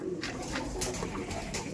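Low, throaty cooing from several dom pigeons kept in a loft, continuous overlapping murmurs heard close, with no voices.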